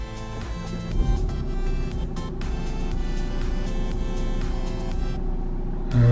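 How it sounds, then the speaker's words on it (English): A Nissan Qashqai engine cranks and catches, then settles into a steady idle with a low rumble, close and continuous throughout. "and start the car up."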